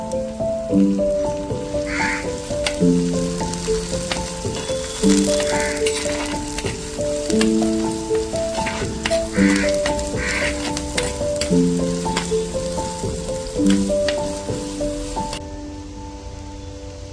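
Slit green chillies and curry leaves sputter and sizzle in hot oil in a pan, a steady loud crackle with scattered pops throughout, accompanied by background music.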